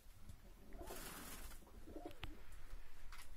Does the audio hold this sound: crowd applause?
no